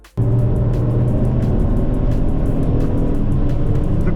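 An Audi S5 diesel on the Silverstone circuit during a track day, its engine a loud, steady, continuous roar from inside the car that starts abruptly and holds at full volume, with no talking.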